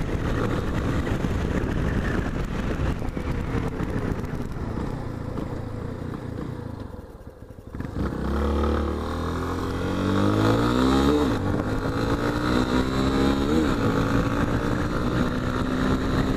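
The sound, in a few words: Yamaha Tenere motorcycle engine revving at high rpm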